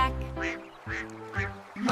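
A duck quacking in a children's nursery rhyme song, four loud nasal quacks in a steady rhythm, close and clear.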